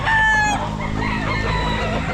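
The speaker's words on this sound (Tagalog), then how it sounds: "Ito manok niya." A rooster crows loudly and close at an outdoor pet market selling gamefowl, one strong call followed by clucking and crowd murmur from the busy market around it.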